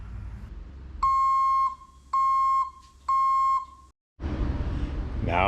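A truck's backup alarm sounds three loud, evenly spaced electronic beeps, each about half a second long with a bright tone, followed by a short silence and then engine and outdoor noise.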